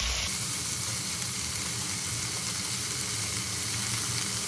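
Vegetables for veg pulao sauté in hot oil in a pan, a loud, constant close sizzle and hiss with no pauses and no talk.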